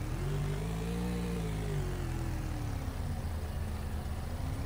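A video game car engine in Roblox revs steadily and loudly throughout, its pitch rising slightly then sinking, with a continuous mechanical drone and no talking.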